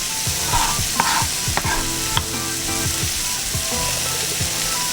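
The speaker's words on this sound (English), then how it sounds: "we're gonna get our onion thrown in there. So get that thrown in with the bacon." Onion sizzling and frying in a pan of rendered bacon fat, a steady crackle with repeated stirring scrapes and utensil knocks, close and continuous.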